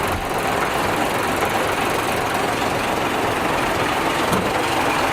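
An orange-painted Isuzu 6BG1 diesel truck engine runs with a steady, loud, rough roar and a knocking clatter, close by and continuous.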